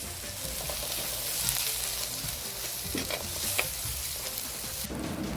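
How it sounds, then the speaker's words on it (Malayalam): Onions sizzle steadily in a hot pan with turmeric, chili powder and salt, with occasional scraping and stirring sounds over the constant frying hiss. "ഉള്ളി കണ്ടോ നല്ലപോലെ വഴന്നിട്ടുണ്ട്"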